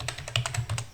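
Code is typed on a computer keyboard in a quick, uneven run of about nine crisp key clicks, quiet and close, with no talking.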